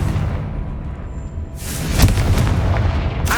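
A Confringo spell goes off in Hogwarts Legacy: a loud, booming burst lands about halfway through, followed by a rumbling, crackling blast that sustains to the end over a steady game background.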